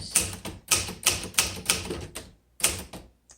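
Keys strike on a 1957 Remington Quiet Riter typewriter, a close series of about eight crisp clacks in quick uneven rhythm with a short pause before the last strokes.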